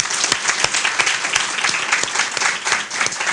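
An audience claps at an award ceremony, with a dense, sustained round of applause filling the room at a steady level.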